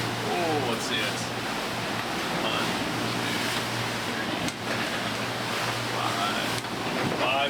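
Rough open sea on a sailboat heading toward New Zealand, with steep swells and 30-knot wind producing a constant loud roar of wind and crashing water, close and unbroken throughout.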